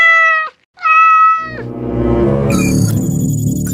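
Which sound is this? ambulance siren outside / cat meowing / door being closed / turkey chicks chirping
cat meowing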